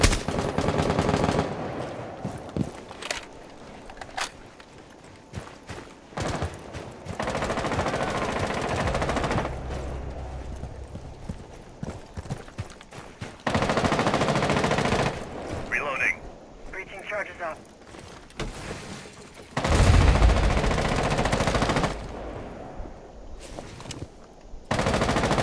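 Bursts of automatic gunfire from a Rainbow Six Siege team deathmatch on the Chalet map break out at intervals, loud and sharp, among other game sounds and brief player chatter.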